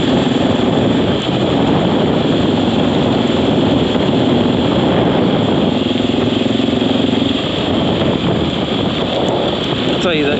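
A loud, raw Honda XR650L dirt bike engine drones steadily throughout, rough and unmuffled with the exhaust silencer tip removed, with wind buffeting the microphone.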